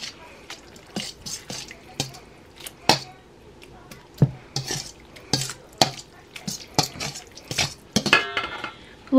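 Spaghetti tossed with grated Parmesan and stirred in a pot, giving a close run of irregular scraping, clinking strokes against the metal with a faint sizzle underneath.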